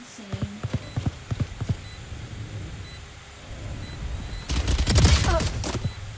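Gunfire in the game Valorant punches through a wall, a burst of rapid sharp shots up front, then a loud dense flurry of impacts later, with no talk over it.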